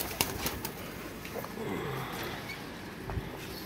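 Pigeons, a breeder's large pairs of Teddy and Golden birds, coo softly and flap their wings in short bursts close by, over faint background noise.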